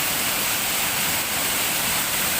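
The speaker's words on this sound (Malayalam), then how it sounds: "ഈ വെള്ളം ഇങ്ങനെ പാറയുടെ മുകളിലൂടെ ഒഴുകി ഇങ്ങനെ വരികയാണ്." Water pours over rocks at a waterfall in Oliyarukku, Anchal, a steady, close, full-bodied rush that continues unbroken with no voices.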